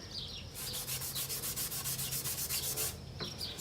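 A brown Scotch-Brite pad scrubs rust off a Mafreto milling table in quick, rhythmic back-and-forth strokes, a steady rasping sound that carries on for about two and a half seconds and is heard up close and alone.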